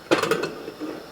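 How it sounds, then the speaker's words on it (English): A brief metallic clatter and clunk of a pressure cooker lid being fitted and locked, a few quick rattles followed by a quieter scrape, close by. "So I have already closed my pressure cooker"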